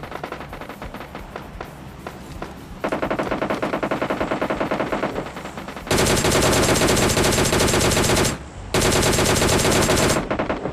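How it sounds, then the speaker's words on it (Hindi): Rapid bursts of automatic gunfire in PUBG Lite crackle almost continuously, swelling louder partway through, with a brief pause before another sustained volley. "मतलब गनशॉट की आ रही थी आवाज की"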